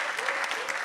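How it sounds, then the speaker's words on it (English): Audience applause for the two facilitators of a mayoral candidate debate, a steady dense clapping filling the whole short moment with no voices over it. "could we have a round of applause for Tracy and Stefan for their wonderful facilitation?"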